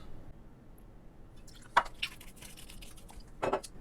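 Kraken Black Spiced Rum is poured into a cocktail as two short, soft liquid splashes, one near the middle and one near the end, over a faint background hiss.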